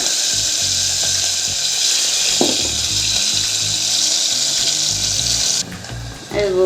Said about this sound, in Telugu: తర్వాత పచ్చిమిరపకాయలు ఉల్లిగడ్డలు కొంచెం ఫ్రై కావాలి